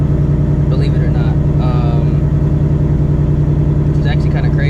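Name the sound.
straight-piped Ford Mustang GT S650 Coyote engine idling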